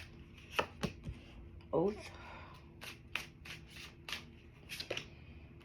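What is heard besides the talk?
tarot cards being pulled from deck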